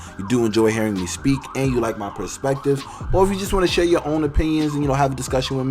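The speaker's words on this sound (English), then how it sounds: "I'm sorry about the sirens" Emergency vehicle sirens wail continuously outside, rising and falling under a man's steady close speech through most of the stretch.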